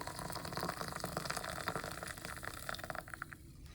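Boiling water pours from a kettle into the base of a moka pot, a steady close gush and trickle lasting a few seconds, quiet and without talk.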